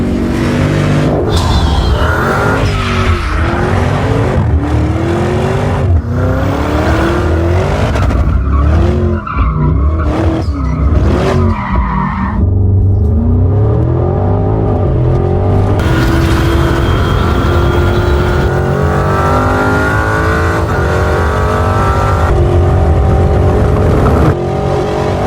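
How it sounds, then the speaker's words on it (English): A Porsche Cayenne Turbo GT with a 4-liter twin-turbo V8 racing in Need for Speed No Limits, loud and continuous, with roaring revs, rising and falling engine pitch, and screeching tire skids. "Cayenne Turbo GT is powered by a 4-liter twin-turbo V8 engine producing 631 horsepower"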